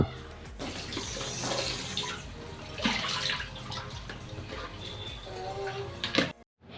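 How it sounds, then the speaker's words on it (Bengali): Fish being rinsed under a running kitchen tap, a steady, fairly loud gush of water splashing over the fish in a sink, continuing for several seconds and cutting off abruptly at the end. "মাছগুলোকে সুন্দরভাবে ধুয়ে নিয়েছি।"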